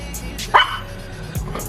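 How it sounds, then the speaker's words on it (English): Two small dogs bark and yip indoors in an apartment, giving one sharp bark followed by a shorter yelp, fairly close against a quiet room. "If y'all hear my dog, it's just Princess and Prada."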